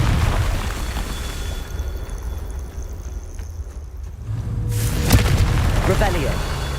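A deep booming blast from the Confringo fire spell in the Hogwarts Legacy video game, swelling over a busy game soundscape with a sharp burst near the end, while a voice speaks over it.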